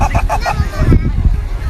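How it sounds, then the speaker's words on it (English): A short, loud rooster crow, presented as the American-style crow, sounds as a few rapid honking syllables lasting under two seconds, close and alone. "How do chickens crow in different countries of the world?"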